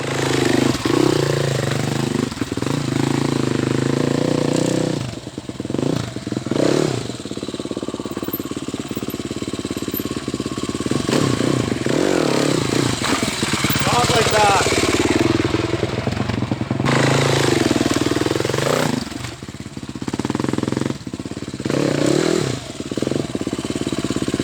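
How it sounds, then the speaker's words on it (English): A dirt bike engine on an enduro ride, heard up close, rises and falls in repeated throttle blips over a steady running drone, with several sharp revs spread across the stretch. "I gave it a little blast of the throttle, like just a little one"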